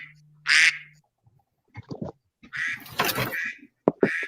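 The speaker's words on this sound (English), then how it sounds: "That alarm is quackers." An alarm sounds as a duck quacking, giving a few loud, bright quacks in short separate bursts with quiet gaps between them, heard on its own during a beard crafting contest.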